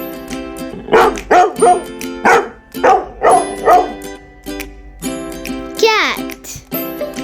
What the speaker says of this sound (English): I'm a dog.